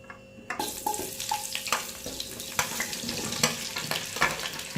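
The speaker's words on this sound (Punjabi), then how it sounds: "ਤੇਲ ਵੀ ਗਰਮ ਹੋ ਗਿਆ ਇਹਦੇ ਵਿੱਚ ਆਪਾਂ ਗੋਭੀ ਪਾ ਲੈਂਦੇ ਆ" Cauliflower florets dropped into a ladle of hot oil in a home kitchen pan, with a steady frying sizzle punctuated by sharp crackles and utensil clinks.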